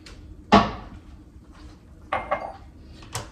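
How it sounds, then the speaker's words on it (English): A metal pan used for cooking pancakes clanks loudly as it is set down, followed by a few lighter clatters and knocks of cookware being moved aside in a quiet kitchen. "I'm going to get rid of this pan."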